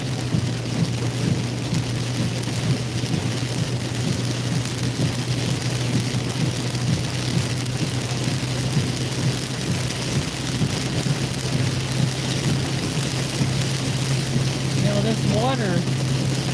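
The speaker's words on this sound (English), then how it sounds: "rain started coming down pretty hard here in Bull County." Heavy rain pours down during a wild Kentucky storm, a dense, loud and unbroken hiss that fills the whole stretch, with a steady low hum beneath and a brief voice near the end.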